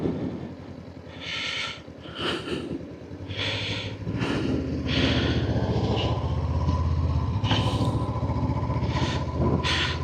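A Honda NX 500 motorcycle engine pulls through the gears on a road ride, a low rising rumble that builds and steadies, while gusty rushes of wind or breath noise punctuate it up close.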